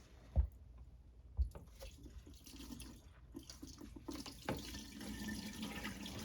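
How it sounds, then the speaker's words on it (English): Water runs from a tap into a stoppered sink, filling it for a bleach-and-water mix, a soft steady flow with a couple of sharp knocks early on and the stream growing fuller toward the end. "I put my stopper in and I'll fill this up with bleach and water."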